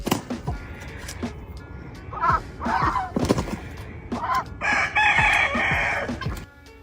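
A rooster crows loudly and nearby, with chickens clucking around it and sharp intermittent knocks between the calls.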